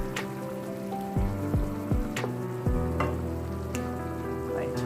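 Butter sizzling and spitting in a hot pan while snapper steams Jamaican style with pimento seeds, a steady frying crackle with a few sharp pops and clinks, close and moderately loud with no talk.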